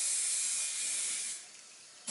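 An aerosol can sprays varnish onto a painting in a continuous close hiss that eases off and fades, followed by a short renewed burst at the end.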